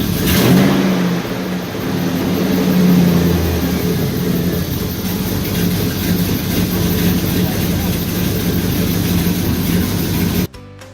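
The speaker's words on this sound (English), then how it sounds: "That was just a clip of the first time we fired the truck up, and it worked great." A 2003 Chevy 1500 pickup's engine runs for the first time after a frame swap, a loud, close, throaty rumble with a few revs rising and falling before cutting off abruptly near the end.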